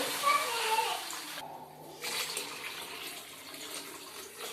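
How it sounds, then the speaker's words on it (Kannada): Water pours steadily into a pan for making upma, with a rushing splash, briefly interrupted, while a voice talks faintly nearby. "ನೀರು ಹಾಕ್ಕೊತಾ ಇದ್ದೀನಿ."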